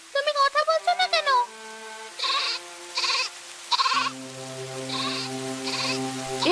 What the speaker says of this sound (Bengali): এ কি, ছাগলের ঘর থেকে কান্নার শব্দ আসছে কেন?